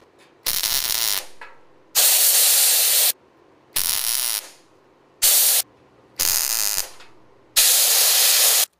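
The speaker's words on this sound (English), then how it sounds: "then I'm going to start doing one little tack weld at a time, going about an eighth of an inch per weld" A 210 amp welder tack-welds patch panels into a car cowl, giving six separate bursts of sharp crackling hiss, each roughly half a second to a second long with short silent gaps between, close and loud, no talking.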